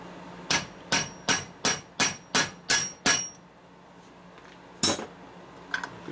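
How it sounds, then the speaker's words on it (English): A hammer taps a small gear into a 1972 Harley-Davidson XLCH Sportster 1000cc Ironhead engine during a rebuild, eight sharp metallic strikes in a steady rhythm followed by a couple of isolated knocks, close and loud with no talking. "Tapping it in with a hammer."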